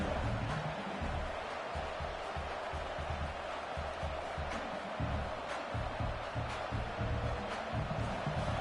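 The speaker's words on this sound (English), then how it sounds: "the crowd coming to life here, trying to help this defense down in the red zone" Stadium crowd noise in a college football video game, a steady broad roar with swelling cheers as the defense holds in the red zone, continuous and fairly loud throughout.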